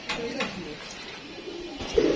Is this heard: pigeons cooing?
yes